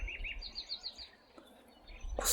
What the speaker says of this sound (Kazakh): Құстың сайрауы